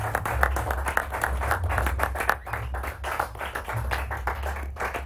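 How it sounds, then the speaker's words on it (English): At the close of a game livestream at Paris Games Week, a crowd claps in a soft, continuous patter of overlapping hand claps over a low hall rumble, moderately distant and fairly quiet. "Round of applause,"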